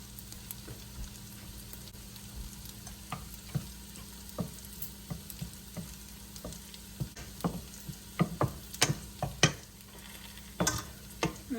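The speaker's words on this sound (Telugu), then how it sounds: "శనగపిండి 4 టీ స్పూన్లు వేసుకుని డ్రై ప్యాన్లో వేయించుకోవాలి." Gram flour dry-roasting in a dry pan, stirred with a utensil that scrapes and taps irregularly, the taps growing louder and more frequent toward the end over a low steady background hum.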